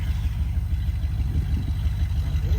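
A 1972 Dodge W200 Power Wagon engine, smoky after years unused, runs loud and close with a steady low rumble that rises in a brief rev, then keeps up a rough, even drone.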